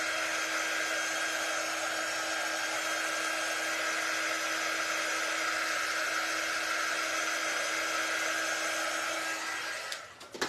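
A handheld dryer blowing on wet paint on a flower vase, a steady loud whirring hum that runs unbroken and alone, then cuts off abruptly near the end.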